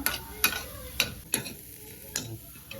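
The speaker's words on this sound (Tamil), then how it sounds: "நல்லா ஃப்ரை ஆகி வரட்டும்" A spiced mixture of chilli powder and salt frying in a pan, with a low sizzle under a series of sharp, evenly spaced stirring taps and scrapes.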